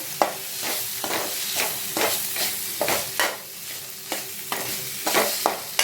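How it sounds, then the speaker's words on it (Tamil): Tomatoes and onions sizzle in a hot pan for vada curry while a spoon stirs and scrapes at a steady rhythm, close and clear with no talking. "தக்காளி வெங்காயம் நல்லா வதங்கி பேஸ்ட்டாக வரணும்"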